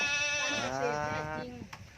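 A goat on a farm lets out a single long, wavering bleat, fairly close but not loud, fading as faint rustling noises follow.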